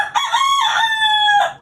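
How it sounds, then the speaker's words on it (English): A rooster crows once indoors, loud and close, a long drawn-out cock-a-doodle-doo lasting over a second with no one talking. "That's my rooster."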